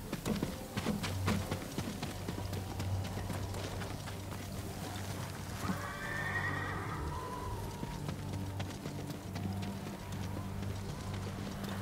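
Horses in the Ghost of Tsushima video game whinny clearly midway, with hoofbeats clopping on and off over a steady low ambient game soundscape.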